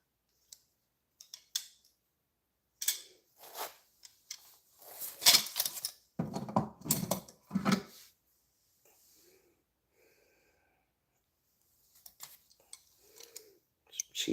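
Metal hand tools, chrome nickel and Cobalt pliers and tin snips, are picked up and handled, giving sharp close clanks and clicks in scattered bursts, busiest in the middle and separated by quiet gaps.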